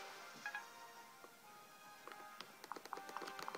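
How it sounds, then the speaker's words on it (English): A horse's hooves clip-clop in the video game Fire Emblem: Awakening, a quiet run of light, evenly spaced hoof clicks picking up toward the end over soft game sound. "Oh, I have a horse."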